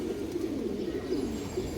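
Pigeon pair, a fancy breed, giving a steady low cooing that runs continuously, close and moderately loud, with no voices.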